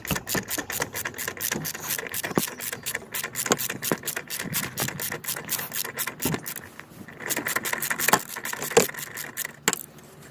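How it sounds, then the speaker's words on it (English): A ratchet undoes 13 mm bolts on a Seat Altea front strut, a fast, close clicking run that continues with brief pauses and a few metallic knocks, no talking. "just gonna remove these 3 bolts, and they are 13 mil bolts"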